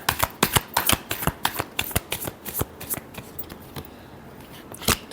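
Tarot cards being shuffled in a quick run of crisp riffling snaps and flicks, close and fairly loud, with a brief pause before a final burst.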